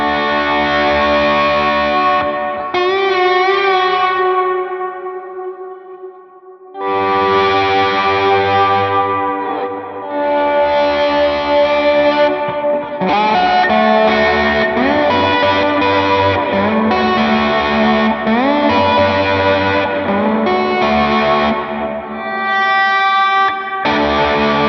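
Electric guitar with Filter'Tron pickups played through a Line 6 HX Stomp, loud chorused and echoing chords with sustained notes, one short pause near the start, then continuous strumming.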